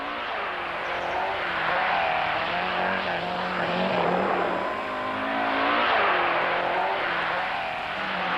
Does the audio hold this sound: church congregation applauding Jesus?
no